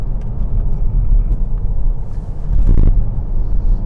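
A BMW 320d F30 diesel saloon accelerates through a corner, a steady close engine and road rumble swelling into a brief louder surge near the end, with no talk.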